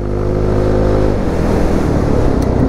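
An ItalJet Dragster 200 scooter accelerates while being ridden, a loud steady engine drone with rising harmonic whine that shifts into a rougher rumble partway through, heard up close with wind noise and no talking.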